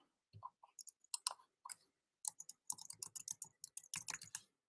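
Quiet, close computer-keyboard typing in irregular bursts of clicks during a live online homeschool biology class, with no talking over it.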